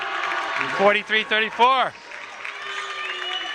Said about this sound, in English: You can hear that Lawrence cheering section to our right.